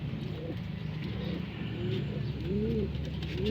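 Domestic pigeons coo softly in their loft, several low rolling calls repeating close by over a constant background hum.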